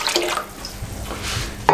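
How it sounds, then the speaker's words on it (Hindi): Water pouring into a pot to boil rice, a close, steady splashing stream that ends with a brief clink of metal. "ये इसमें पानी शामिल कर दें"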